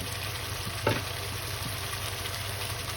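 Bacon fries in a pan for carbonara, giving a steady, even sizzle with a brief clatter of stirring, close and moderately quiet with no voices.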